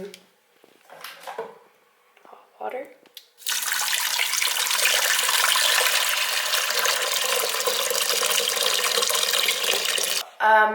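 Hot water gushes steadily from a tap for making kombucha tea, a loud, continuous broadband rush lasting about seven seconds, after some quiet handling clatter and before a clunk at the end.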